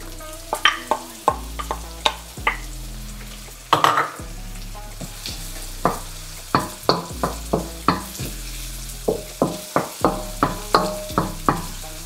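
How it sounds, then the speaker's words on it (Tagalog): Garlic added to translucent onions sizzles in a frying pan for Filipino-style spaghetti, with a spoon scraping and stirring in a steady run of sharp, close knocks over the continuous frying hiss. "Kapag translucent na yung sibuyas, ilagay na ang bawang."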